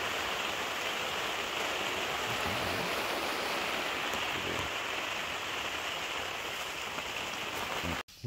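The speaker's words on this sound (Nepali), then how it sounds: "बाहिर पानी परिरहेछ" Rain falls outside a moving train at night, a dense, even hiss of drops pattering on the carriage that holds steady throughout and then cuts off abruptly at the end.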